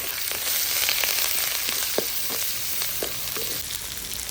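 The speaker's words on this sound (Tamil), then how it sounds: "வெங்காயம், பச்சை மிளகா, கருவேப்பிலை போட்டு ஒரு வதக்கிக்கலாம்." Onion, green chili and curry leaves sauté in a hot pan with oil, giving a steady close sizzle and crackle, broken by a few sharper pops and spatters through the whole stretch, with no voices.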